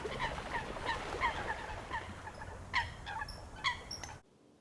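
Coots calling on open water, a rapid series of short, sharp, nasal clucks and squawks in irregular bursts, moderately near and alone, ending abruptly.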